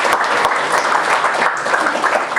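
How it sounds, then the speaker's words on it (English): A comedy club audience applauds, a dense, loud, sustained clapping from a room full of people that runs the whole time without a break. "Give him a round of applause,"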